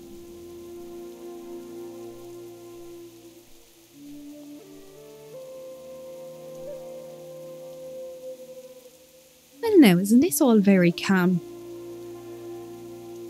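Soft steady rain falls in the Tauren starting area of World of Warcraft, a faint continuous patter beneath calm music, with a voice speaking near the end.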